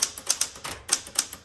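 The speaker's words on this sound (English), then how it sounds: "This typewriter is a little bit difficult for me to type on." Keys strike on a 1967 Super Sterling manual typewriter in a quick, uneven run of about nine sharp clacks, close and fairly faint, with short gaps between bursts.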